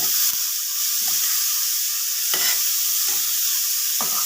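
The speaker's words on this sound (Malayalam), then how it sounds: "ഇളക്കി കൊടുക്കാം" Papaya thoran with onions being stirred in a pan over steady frying sizzle, a spoon scraping through it in a few distinct strokes roughly a second apart, close and fairly loud, with no talk.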